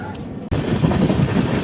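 Passenger train hauled by a WAP-7 electric locomotive on a journey to Tirupati, rumbling steadily and loudly after a sudden cut-in at the start, with heavy broadband wheel and wind noise and no clear speech.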